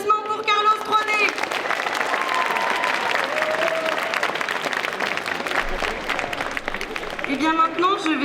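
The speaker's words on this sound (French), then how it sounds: "je veux un tonnerre d'applaudissements pour Carlos 3D" A crowd at a cosplay contest applauds a contestant with loud, sustained clapping and some cheering, and a host's amplified voice comes in at the start and again near the end.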